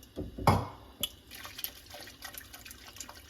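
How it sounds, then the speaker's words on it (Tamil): A short burst of cooking water from boiled horse gram being poured into a dish, followed by scattered drips and small splashes, close and fairly quiet. "அந்த தண்ணியவே இதில் ஆட் பண்ணிக்கிறோம்"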